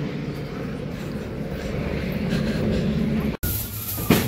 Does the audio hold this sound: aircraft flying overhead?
yes